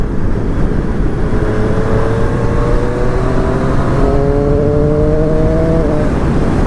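A 2019 Honda CB1000R Plus or Triumph Street Triple RS motorcycle engine revs hard and loud up close at full throttle, its pitch climbing steadily under heavy wind rush before easing off.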